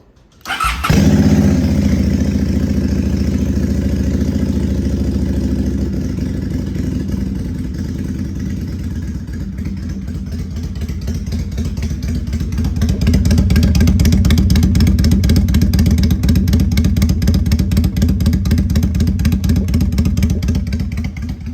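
A motorcycle engine with Cobra exhaust pipes cranks with the choke on and catches, then settles into a loud, steady idle with a rapid, uneven putter that rises slightly toward the end.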